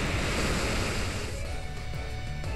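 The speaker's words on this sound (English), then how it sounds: "so he waterfalls instead" A rushing, roaring water effect from a Pokémon Waterfall attack in a Pokémon Omega Ruby/Alpha Sapphire online battle: a steady, loud surf-like wash that fills the whole stretch and eases slightly toward the end.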